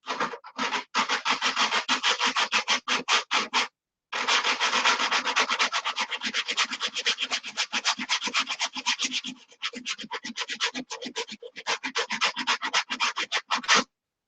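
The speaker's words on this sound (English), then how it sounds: "80 grit sandpaper on the polywog" 80 grit sandpaper rubs by hand over a wooden polywog model in rapid, rhythmic back-and-forth strokes, close and scratchy, with a few brief pauses between bursts.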